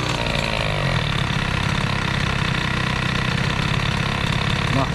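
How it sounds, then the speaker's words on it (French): A Stage6 65cc scooter engine with a new piston idles steadily, its close, buzzing two-stroke drone running continuously without breaks. "Moteur qui se remplit d'essence au ralenti."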